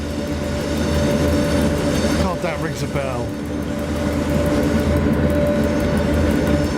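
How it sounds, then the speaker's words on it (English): A train in the SimRail simulator rumbles steadily with a low droning engine hum and a brief squeal midway, while someone talks and laughs over it. "Big train coming through, no brakes, send help."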